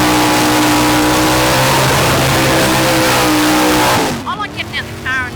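Loud, sustained roar of a drag racing car doing a burnout at the Springnats, engine held at high revs for about four seconds before cutting off, followed by softer voices talking.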